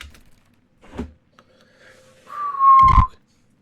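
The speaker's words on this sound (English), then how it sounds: "Apologies for that whistle." A person whistles a short sliding note near the end, a clear rising-then-falling tone lasting under a second, preceded by faint clicks and a soft breathy sound in an otherwise quiet room.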